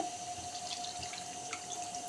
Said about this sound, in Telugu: కొద్దిగా వాటర్ పోసుకోవాలండి